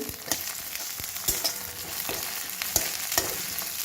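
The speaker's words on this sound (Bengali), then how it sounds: "তো এটা একটু ভালো করে ফ্রাই করে নিতে হবে।" Green peas sizzling in a pan for a simple pasta dish, a constant bright frying hiss broken by several sharp clinks of a spoon stirring, close and unaccompanied by speech.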